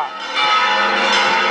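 A large church bell rings out with a bright, sustained metallic tone and shimmering overtones, loud and near, its resonance hanging without voices.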